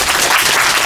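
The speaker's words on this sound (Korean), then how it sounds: "여러분 다시 박수를." An audience claps at a Korean community association's February gathering in Sydney, a loud, dense burst of many hands applauding close by, brief and unbroken with no talk.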